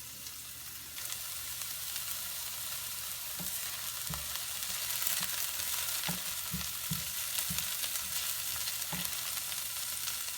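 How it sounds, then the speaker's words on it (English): Onion whites frying in olive oil in a large pan over medium heat, a steady soft sizzle with a few light knocks and stirring taps, close and alone without talk. "you take the whites of the onions, you put them in a large pan over medium heat, and oil."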